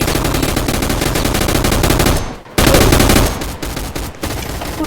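Rapid gunfire in a video game gun fight, a loud, dense stream of shots that breaks off briefly and resumes, with faint talk in the background.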